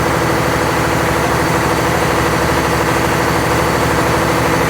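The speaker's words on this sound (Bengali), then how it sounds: "এটি হচ্ছে অ্যাডভেঞ্চার 9 লঞ্চের নতুন হ্যান্ডসাইন ব্র্যান্ডের ইঞ্জিন।" A loud new Handsign-brand diesel engine on the Adventure 9 river launch idles steadily up close, a constant rumbling drone with vibration and no pauses.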